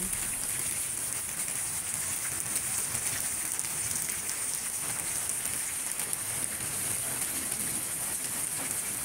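Steady afternoon rain falling in Pabna, Bangladesh, a continuous dense hiss of drops on surfaces with no voices, even in level throughout.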